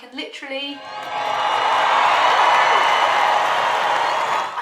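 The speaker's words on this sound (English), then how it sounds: "can hear people clapping and cheering now" A crowd breaks into loud, sustained clapping and cheering that swells after a brief voice at the start and then holds steady and dense to the end.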